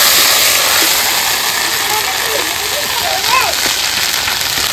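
Whole cumin, ginger, green chili paste and tomato paste sizzle loudly in hot oil for a vegetarian stuffed paneer potol dish, a dense, rain-like hiss filling the clip with a faint voice underneath.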